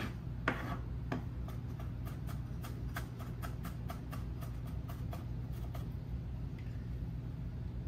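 A knife minces ginger and garlic on a cutting board, making a quick series of light, evenly spaced taps that continue for several seconds, fairly faint and close, over a low steady hum.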